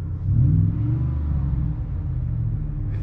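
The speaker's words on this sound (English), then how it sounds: "the exhaust sounds better with the windows up inside" A deep, steady V8 rumble through a Magnaflow exhaust, with an Airaid intake, fills the cab of a 2020 Ford F-150 5.0 with windows up, with a brief swell of revving near the start.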